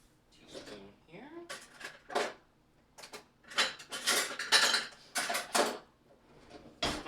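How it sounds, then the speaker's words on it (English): Clinks and scrapes of a metal teaspoon and pans being handled on a stovetop while meatloaf, mashed potatoes and gravy are cooked. The bursts are short, irregular and close, with a person talking between them. "Let me get a teaspoon here."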